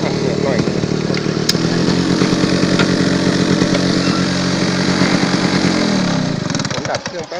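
A vehicle parked on a steep lane in Phuket runs with a loud, steady rumbling engine close by for several seconds, then the engine is switched off and the sound winds down and fades near the end.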